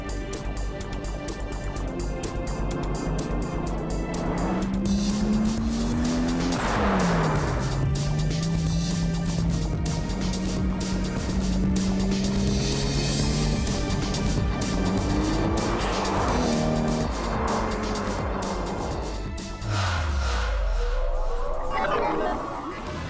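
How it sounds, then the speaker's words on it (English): Modified street cars, including a 1997 Toyota Supra, run a drivability test, engines revving up and down through gear changes with tire squeals and passes close by, loud and continuous. "The ADR Wheels drivability test puts the cars through real-world driving scenarios."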